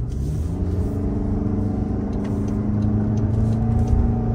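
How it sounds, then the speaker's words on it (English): A 2024 Toyota Grand Highlander Hybrid Max SUV accelerating up a slight grade, a steady low engine and road rumble heard from inside the cabin, continuous and fairly loud with no talking. "So accelerating up a little grade now."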